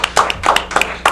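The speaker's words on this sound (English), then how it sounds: "There's a round of applause for that" A few scattered hand claps from an audience on a local talk show, sparse and close, with about five separate clap bursts over a short moment and no voices.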